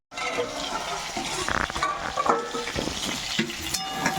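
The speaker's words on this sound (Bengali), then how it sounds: "একটু নেড়ে দিই আলুগুলো।" Potatoes frying in a pan for a Bengali tangra fish curry, stirred with a utensil: steady close sizzle under repeated scraping and clinking strokes, with no voices.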